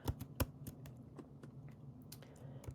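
Quiet typing on a computer keyboard while labeling a nonfiction science book, a run of irregular light key clicks with a few sharper taps.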